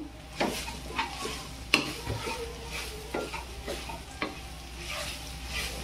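Homemade masala paste with Agri masala and coriander powder frying in oil for dhaba-style mushroom masala, with a soft sizzle under sharp spoon scrapes and knocks against the pan at irregular intervals.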